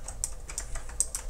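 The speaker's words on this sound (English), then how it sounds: "Not sure if you guys can hear that, but it's quite clicky." Typing on a Razer Huntsman opto-mechanical clicky gaming keyboard: a quick run of crisp, distinct key clicks at close range, fairly quiet and with no talking.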